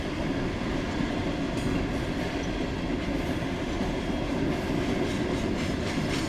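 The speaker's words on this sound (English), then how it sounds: "He's got a decent sized train." A long CSX freight train rolls past on the rails at night, with a loud, steady rumble and a clatter of wheels that runs without a break.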